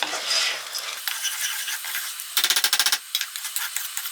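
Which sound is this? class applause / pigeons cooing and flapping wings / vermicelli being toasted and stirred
vermicelli being toasted and stirred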